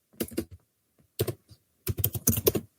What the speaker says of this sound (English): a little dead air with some typing in the background